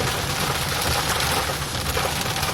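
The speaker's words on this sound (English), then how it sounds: "I bet we've got 5 inches of rain in the last 20 minutes." Heavy rain pouring down, a dense, continuous hiss with scattered pattering and cracking impacts, fairly close and steady throughout, with no speech.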